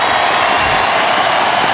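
Basketball arena crowd at Game 1 of the 2002 NBA Finals, Lakers vs. Nets, a dense roar of applause and cheering filling the whole short moment at loud, constant volume.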